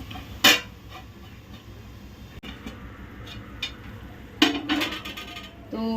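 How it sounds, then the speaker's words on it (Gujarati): A metal lid is set onto a cooking pot of simmering gravy, two sharp clanks with ringing tails about four seconds apart, a small tap at the end, and quiet kitchen background between. "ઢાંકણું ઢાંકી દઈશું."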